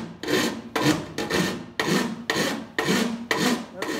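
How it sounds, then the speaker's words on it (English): Hand file working over a metal fender panel with a high crown, seven long, even rasping strokes in a steady rhythm, close and clear with short pauses between strokes and no talking. "when you're hand filing like this"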